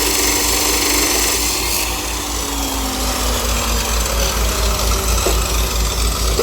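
A cut-off machine runs continuously during a repair test. It gives a loud, steady motor drone with a low pulsing hum and faint rubbing and scraping noises throughout.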